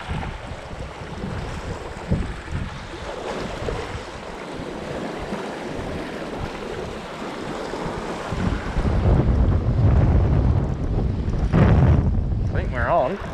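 Strong gale-force wind buffets an open shoreline while squid fishing, a constant roaring rush with heavy microphone buffeting that swells louder in gusts toward the end, with breaking water beneath.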